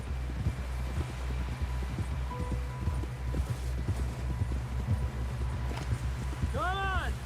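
Horse hooves clip-clop in a steady rhythm in the video game Red Dead Redemption 2, close and continuous over a low ambient bed, with a short whinny-like tonal sound near the end.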